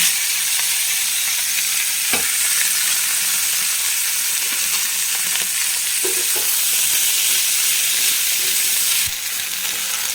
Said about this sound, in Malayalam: അപ്പോൾ വെണ്ടക്ക ഒന്ന് വാട്ടിയെടുക്കട്ടെ